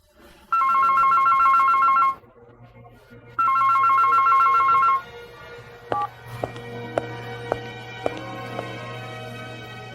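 A telephone rings in two long, loud electronic bursts separated by a short gap, followed by a series of sharp clicks and beeps over a steady low hum.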